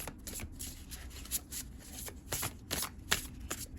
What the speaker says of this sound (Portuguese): Vamos embaralhar direitinho. Esse deck é grande e largo e é difícil de embaralhar.